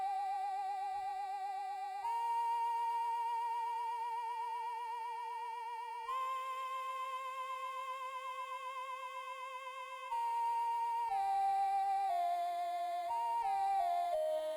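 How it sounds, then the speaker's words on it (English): Chiptune synth tones from an NES sound chip emulator, panned apart, play long bright held square-wave notes that step and slide between pitches, ending in a quicker descending run. "we've got an NES sound chip emulator as well. And they sound like this."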